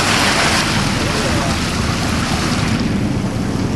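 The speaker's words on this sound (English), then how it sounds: "This hole in the wall rushes very fast during the high and low tides" Fast tidal water rushes through the narrow Hole in the Wall channel in Desolation Sound, BC, a loud, steady broadband roar mixed with wind buffeting the microphone, continuous for the whole stretch with no talking.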